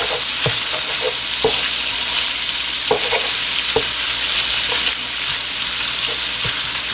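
Beef browns in a hot pan with a loud, steady sizzle and occasional scrapes and clinks from stirring, with no talking.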